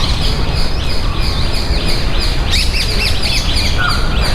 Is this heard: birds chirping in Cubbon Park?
yes